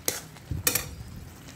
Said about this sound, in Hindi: तो हम इसको जो है सुखा लेते हैं, पहले चलाते हुए फुल फ्लेम कर दिए हैं अभी।